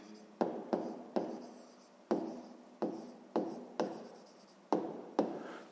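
Pen writing on paper for a sixth-grade math exercise, a series of short close scratchy strokes separated by brief pauses, quiet and alone.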